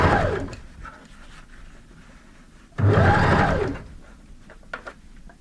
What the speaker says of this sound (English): Now we're going to come in again and we're going to sew